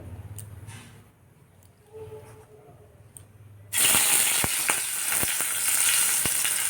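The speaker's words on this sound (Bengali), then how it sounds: "আমি এখন বেগুন ভাজাটা বসিয়ে" Eggplant slices dropped into hot oil in a home kitchen pan, a quiet room giving way to a sudden loud, continuous close sizzle with sharp popping crackles scattered throughout.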